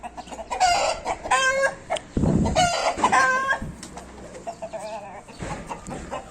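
Roosters set out to sun themselves crow loudly and repeatedly at close range, several long ringing calls overlapping with clucks and other fowl noises in between.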